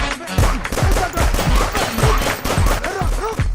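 A rapid burst of gunfire in a comedic police-squad scene, many sharp close shots in quick succession with no let-up, loud and dense throughout.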